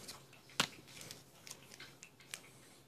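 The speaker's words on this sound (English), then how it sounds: "That is just my dog drinking out of his little water bowl." A dog drinks from its small water bowl indoors, a faint series of soft wet lapping clicks and splashes in an irregular rhythm, quiet and close.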